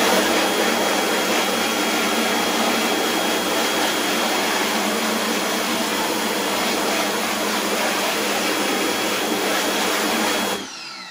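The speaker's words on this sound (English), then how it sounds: "Keep rinsing it with water, not much pressure." A low-pressure water spray rinses photo emulsion out of a screen printing screen. It makes a loud, continuous, even hiss for about ten seconds and then cuts off abruptly near the end.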